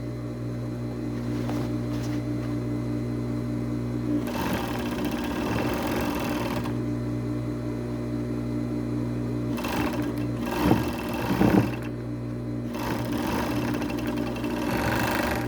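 A sewing machine stitches fabric for a strappy blouse in bursts, its steady mechanical whir running over a constant motor hum with short pauses between seams.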